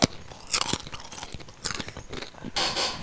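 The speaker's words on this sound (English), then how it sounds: "I'm gonna make you listen to me chew." A person chews crunchy food up close, producing irregular crisp crunches and bites with short gaps between them, with no talking.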